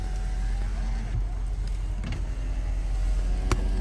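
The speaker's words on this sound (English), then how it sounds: "There's the other fire truck there." A fire truck's engine hums steadily nearby at a fire alarm call during snowfall, a low continuous drone with a few faint clicks and a brief sharp knock near the end.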